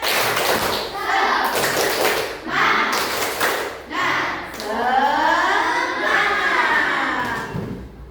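Schoolchildren in a classroom doing a 'tepuk semangat' ice-breaker: bursts of patterned, rhythmic group clapping with thumps, and the children chanting and calling out between and over the claps.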